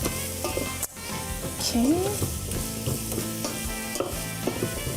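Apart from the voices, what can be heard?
onions, carrot, garlic and tofu frying in a pan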